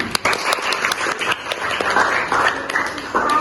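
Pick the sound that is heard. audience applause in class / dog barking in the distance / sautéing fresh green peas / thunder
audience applause in class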